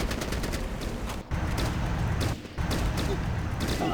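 Rapid automatic gunfire in Fallout Tactics, shooting up barricades in a steady, fairly loud burst of shots with two short breaks.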